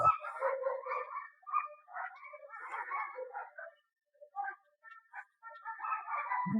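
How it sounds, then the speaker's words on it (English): Dogs bark and yap in a busy, overlapping chorus, fairly close, with a short pause before the barking picks up again. "If you guys hear dogs barking in the background,"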